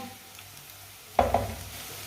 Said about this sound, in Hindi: प्याज को मैंने हल्का सा ब्राउन कर लिया।